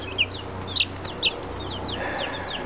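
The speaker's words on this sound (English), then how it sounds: "I've got 3 of the little blue-beaked silkies, like this one here." Small blue-beaked silkie hens, egg-laying females, let out three short clucks close by, over a steady low background hum and a faint rustle.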